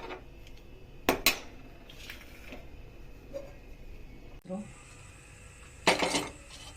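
A metal wok clanks down twice onto a gas stove, then a louder clatter of cookware follows later over a low kitchen background hum.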